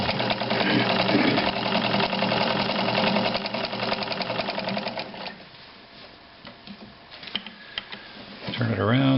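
A Necchi BU Nova sewing machine stitches in a fast, steady mechanical chatter that slows and fades toward the end, close and clear, with a brief clunk as it stops.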